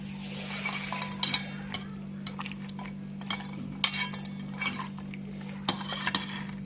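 A spoon stirs a salt and yogurt marinade for homemade dum biryani in a bowl, giving irregular clinks and scrapes against the dish over a steady low electrical hum.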